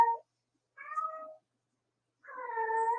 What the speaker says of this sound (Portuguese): Meu gatinho deu de miar